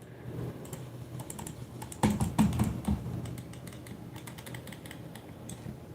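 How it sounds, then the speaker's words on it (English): Fast typing on a computer keyboard, close and fairly soft, with a brief burst of louder key clacks in the middle. "My new keyboard."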